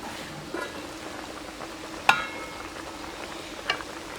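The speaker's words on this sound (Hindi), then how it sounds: "अभी उबाल आना शुरू हो गया है" Apple murabba sugar syrup with apple pieces boiling in a covered pot, a soft steady bubbling hiss with occasional small pops and a sharp clink near the middle, faint and close.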